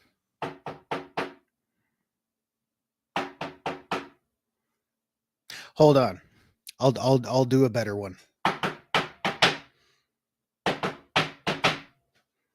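Knocking on a hard surface imitating the knock from the film The Fog, several bursts of three or four sharp raps separated by pauses, close and loud, with someone speaking briefly between them.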